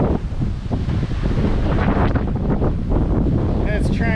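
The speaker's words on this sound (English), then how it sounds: "It's very windy." Strong wind buffeting a microphone on a farm, a loud continuous roar with gusty surges and rumbling throughout.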